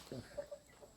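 A chicken clucks close by in a household setting, one short low burst followed by a couple of faint, thin calls within a second, over quiet background.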